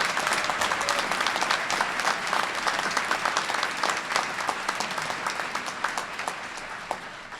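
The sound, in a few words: audience applause for international students at graduation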